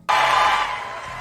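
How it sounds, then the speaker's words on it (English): An Emmy awards audience bursts into applause for a standing ovation after a speech, the sound starting abruptly and loud, then easing slightly as the clapping continues. "They gave her a nice little standing ovation."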